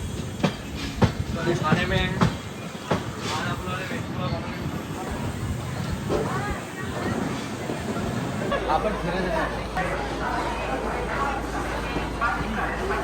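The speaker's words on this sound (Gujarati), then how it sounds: "અમારી ટ્રેન બસ અમદાવાદ જંકશનમાં એન્ટર થઈ ગઈ છે" A train pulls into Ahmedabad Junction station with a steady rolling rumble and rhythmic wheel clatter. Voices and nearby chatter run over it throughout.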